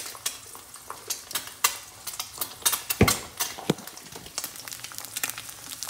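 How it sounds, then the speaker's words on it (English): Eggs sizzle in hot grease in a frying pan and are pushed around with a utensil, giving repeated light scrapes and taps over a constant crackling fry, heard close and with no talking. "now I'm gonna move these eggs around just so the grease gets on them and it's nice, evenly cooked"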